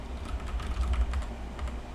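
Rapid typing on a computer keyboard while entering a chess opponent's name for a quad tournament round, giving a close, steady run of soft clicking keystrokes with no talking.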